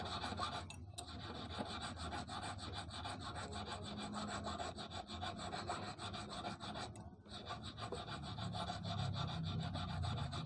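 Steady, continuous rasping and rubbing on metal to remove file marks from a brake disc being made into a fishing hook, a close, unbroken scraping texture with brief pauses, no voices.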